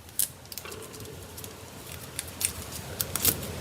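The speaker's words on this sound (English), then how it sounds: "I'm gonna take and cut some of that flap off" A few close, sharp snips of scissors cut a flap off a confetti birthday card, scattered among light paper handling clicks and rustles.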